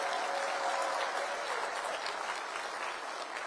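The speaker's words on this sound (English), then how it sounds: "Let's give a big round of applause to our police" Crowd at a rally applauding police officers, dense sustained clapping that fills the whole stretch at steady volume with no voices over it.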